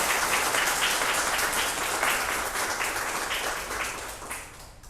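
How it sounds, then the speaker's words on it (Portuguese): A church congregation applauds a couple at a service, dense sustained clapping from many hands that fades slightly toward the end, with no voices over it. "Uma salva de palmas para eles."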